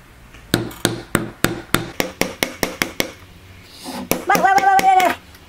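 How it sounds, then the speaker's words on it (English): Hammer blows strike nails into a wooden birdhouse during a kids' build, about a dozen sharp, evenly spaced knocks close up, followed by a voice. "Cammy Cam, can you hammer that down please, sir?"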